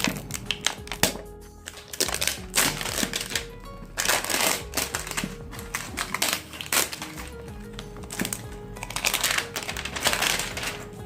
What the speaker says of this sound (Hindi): तो आइए अब हम इसको अनबॉक्सिंग करते हैं